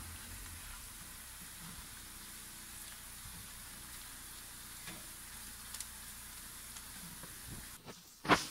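Food fries quietly in a pan with a soft, even sizzling hiss, faint throughout, ending with a brief knock.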